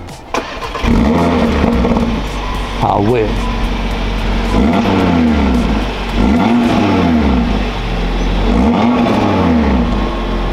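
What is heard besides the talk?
five-cylinder car engine revving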